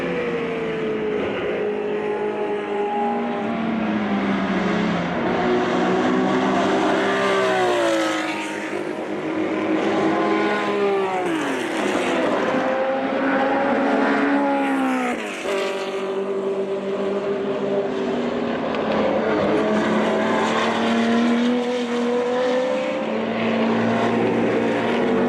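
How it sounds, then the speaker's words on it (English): Vintage Porsche race cars, including a 908 Longtail and a 1969 917K, scream past on a racing circuit at the 2015 Rennsport Reunion, with loud continuous engine roar and rising and falling pitch sweeps as cars pass close one after another. "Gunnar Jeanette has set a new fast lap for him for this weekend in the 908 Longtail"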